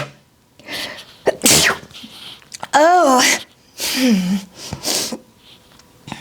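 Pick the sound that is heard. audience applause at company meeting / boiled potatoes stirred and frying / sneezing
sneezing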